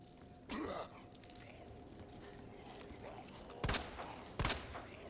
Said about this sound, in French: Je tire dans le mec mort, mais pas dans le zombie, là.